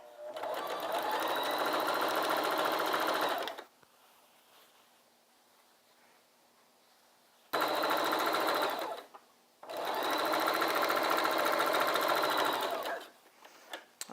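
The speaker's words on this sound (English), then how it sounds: "we're going to sew down this side" Sewing machine stitching quilt fabric for a baby blanket along the selvage edge, running in two steady bursts of about three and a half seconds each with a short stop between, close and loud with no talk.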